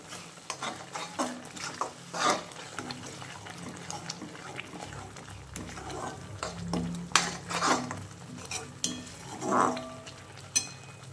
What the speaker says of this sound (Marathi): हलकीशी चटणी, अर्धा लहान टीस्पून हळद, हे छान मिक्स करून घेऊ।